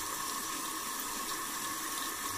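Tap water runs steadily into a sink for wetting a shaving brush, a continuous close hiss of flowing water with no talk over it.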